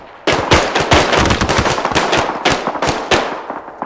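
Rapid automatic gunfire in the Vietnam War campaign of the game ArmA III, loud close bursts of repeated shots with sharp cracks in quick succession, starting suddenly and continuing throughout without talk.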